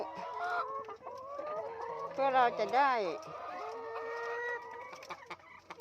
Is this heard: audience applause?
no